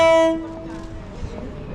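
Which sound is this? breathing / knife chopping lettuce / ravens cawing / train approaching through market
train approaching through market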